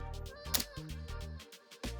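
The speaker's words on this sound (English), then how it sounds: "And then there's the leaf shutter," The leaf shutter of an Olympus 35 SP film rangefinder camera fires once with a quiet, crisp click over soft background music.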